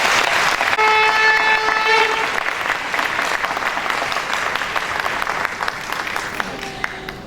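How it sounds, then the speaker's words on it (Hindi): An audience applauds loudly for a guru at a musical and spiritual evening, thick sustained clapping that tapers gradually, with a brief sustained musical tone sounding underneath early on. "इस गुरु के फैंटास्टिक साधन के लिए एक बार जोर से ताली होनी चाहिए।"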